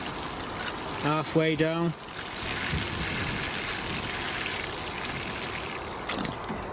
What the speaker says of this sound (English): Give this a good watering in